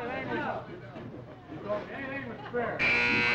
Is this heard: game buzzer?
yes